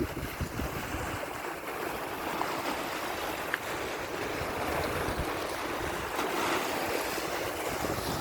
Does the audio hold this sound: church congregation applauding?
no